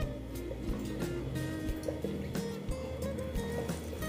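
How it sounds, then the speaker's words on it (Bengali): A small amount of water pours into Malabar spinach (pui shak) fritter batter, a soft close trickle and splash under a faint steady background. "মিক্সড করে নিয়ে এখন আমি এখানে অল্প জল অ্যাড করব।"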